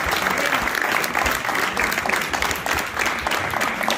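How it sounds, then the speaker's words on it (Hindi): A mushaira audience breaks into dense, continuous applause, many hands clapping loudly and steadily throughout in a hall. "भरपूर तालियों में।"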